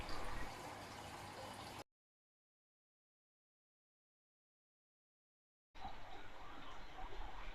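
Water running through a valve-controlled inlet into a simple aquaponic filter with a sock-shaped cloth strainer, a soft, close trickle and splash heard in two stretches separated by a long silent gap.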